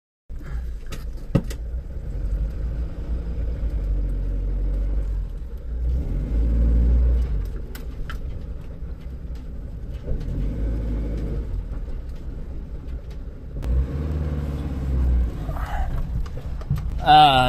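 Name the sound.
Ford camper van engine running after starting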